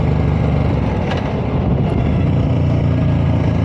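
A motorcycle ridden with the helmet visor up: a dense, continuous engine rumble with a steady low-pitched drone, loud and close, and little wind roar on top.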